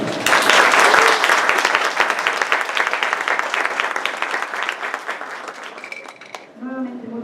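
Audience at a Mexico City constitution forum applauding to welcome a law and political science director, a loud dense burst of clapping that gradually thins out, followed by a voice starting to speak.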